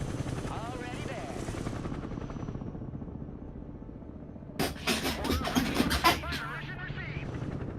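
A CH-53 helicopter in the game Broken Arrow, a continuous low rotor drone running throughout, joined midway by a burst of sharp, rapid gunfire-like cracks, with people talking over it.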